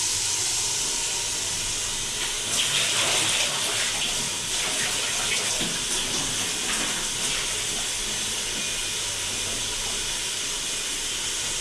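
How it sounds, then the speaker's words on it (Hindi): Water draining off soaked chana dal, a steady rushing hiss and splash that swells briefly in the middle, close and continuous, with no talking. "अब हम इसमें शामिल करते हैं दाल का पानी निकाल लेते हैं"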